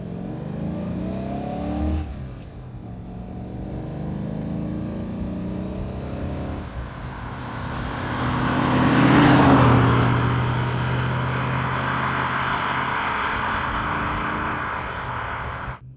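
A 1967 Maserati Quattroporte Mk1, a heavy two-ton saloon, driven on the road while its gears are changed: a steady engine drone that dips at a shift, then climbs and swells in a long rev before settling back, heard from inside the car.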